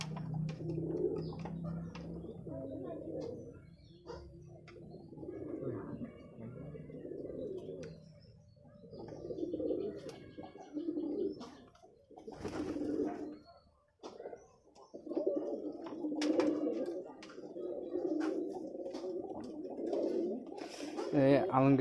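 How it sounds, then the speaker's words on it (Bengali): Rajshahi Giribaz and Pakistani breed pigeons coo steadily in their coops, a dense, overlapping chorus of low throaty calls heard close by throughout, with an occasional chirp above it. "এখানে কবুতর আছে মূলত রাজশাহীর অরিজিনাল গিরিবাজ এবং হচ্ছে পাকিস্তান কিছু জাতের কবুতর আছে এখানে।"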